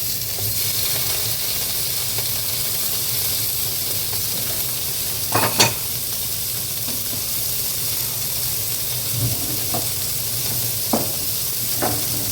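Sausage meat with the casing removed fries in a heated pan, a continuous close sizzle and hiss broken by a few louder bursts and scraping stirs as the meat is broken up.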